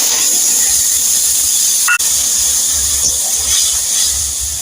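Water mixed with mustard paste, salt and turmeric is poured into hot oil tempered with cumin for a puti fish mustard curry, setting off a loud, close, sustained hiss and sizzle with one brief break.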